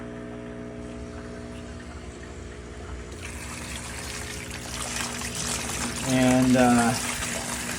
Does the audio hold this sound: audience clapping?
no